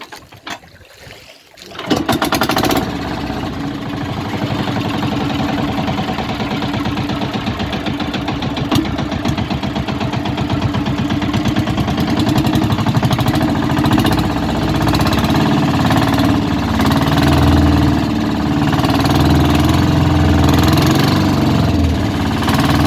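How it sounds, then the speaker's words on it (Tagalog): After a brief rustle, a fishing boat engine starts and keeps running loud and steady, a rough mechanical drone with a knocking throb. "Papaandarin natin yung makina."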